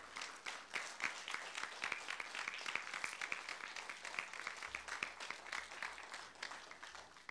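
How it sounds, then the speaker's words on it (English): A standing church congregation gives a sustained round of applause for the service band at a youth Sunday service, dense steady clapping from many hands heard at a moderate distance. "Let's stand together and give them one more round of applause."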